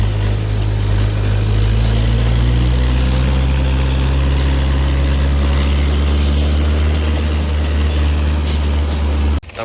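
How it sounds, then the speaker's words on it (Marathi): A farm tractor engine idles steadily at close range, a heavy low rumble with a constant tone that runs unbroken for nearly ten seconds before cutting off abruptly at the end. "मामा बसला ट्रॅक्टर चालवाय."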